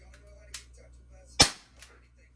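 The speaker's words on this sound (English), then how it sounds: "Sure enough, it's still shooting BBs." A BB gun fires at a homemade paper target indoors, giving one sharp, close crack with a short tail, preceded and followed by fainter clicks and taps in a quiet room.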